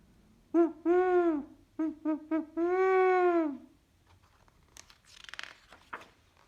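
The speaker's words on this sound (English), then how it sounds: "the sound of the great horned owl" A deep, resonant great horned owl hooting in a rhythmic series of calls, close and clear, followed by soft rustling after the hoots stop.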